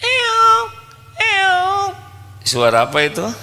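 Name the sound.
person imitating a cat meow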